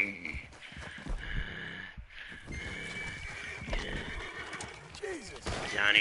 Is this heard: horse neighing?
yes